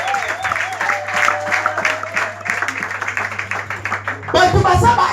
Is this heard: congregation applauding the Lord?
yes